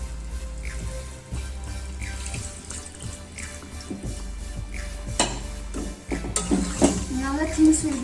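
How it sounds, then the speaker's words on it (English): Water is poured into a pot of potatoes and coconut cooking for a Bengali prawn curry, a steady splashing pour with stirring and pot clatter, close and fairly loud, ending in a busier sizzle and rattle. "So I have to give little bit of water to boil it out."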